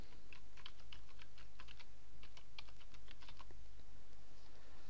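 Keys on a computer keyboard typed in a quick, irregular run of light clicks as a domain name is entered, close and fairly faint over a steady low hum.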